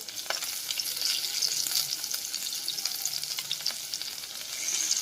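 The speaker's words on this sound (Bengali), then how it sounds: "তেল দিয়েছি তেল গরম হয়ে গেলে আদা দিলাম দিলাম পরিমাণ মতো রসুন দিলাম" Ginger and garlic frying in hot oil in a pan, a dense continuous hiss and sizzle with light crackles and occasional stirring scrapes, close and steady, no voices.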